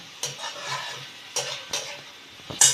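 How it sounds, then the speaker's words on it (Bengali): Pieces of fried elephant foot yam are stirred in a pan, several distinct scraping strokes over a soft sizzle, with a sharper metallic scrape at the end. "এর মধ্যে আমি ভেজে রাখা ওলের টুকরোগুলো দিয়ে দেব তারপর ভালোভাবে আরেকবার নেড়ে চেড়ে"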